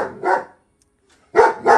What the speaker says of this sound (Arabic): النوعية هذه من الكلاب اللي هي الجيرمن شبرد